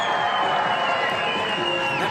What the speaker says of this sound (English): fans, let's make some noise for your team,